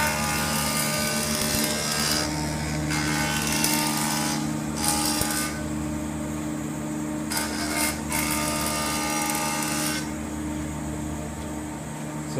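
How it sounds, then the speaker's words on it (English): Wadkin PAR Mk2 edger machining wood with the extractor running, a loud steady mechanical drone with bursts of higher cutting noise as stock passes through, close and without speech. "You turn on the edger there"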